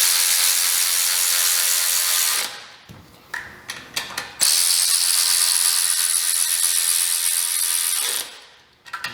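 Ratchet tightening bolts on the aluminum intake manifold of a Ford SVT Contour, loud and close, running steadily for a couple of seconds, then a short pause with scattered clicks before more sustained ratcheting.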